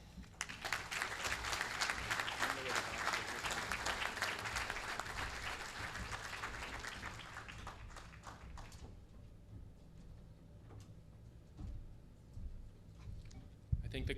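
Audience applause fills a hockey association's 50th anniversary awards reception, a dense sustained clapping from a large crowd that thins out and fades after about eight seconds, leaving scattered claps and room murmur.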